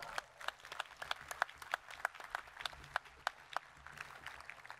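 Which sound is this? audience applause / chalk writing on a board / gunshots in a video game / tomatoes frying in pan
audience applause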